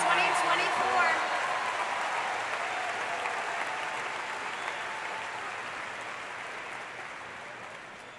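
A graduation crowd at a high school ceremony applauds and cheers, a dense steady wash of clapping with some voices that slowly fades over about eight seconds.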